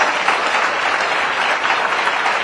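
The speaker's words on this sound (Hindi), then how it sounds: "एक बार जोरदार तालियों के साथ स्वागत अभिनंदन।" A crowd at a political gathering claps loudly to welcome the chief minister, a thick continuous wash of applause close and strong for a couple of seconds.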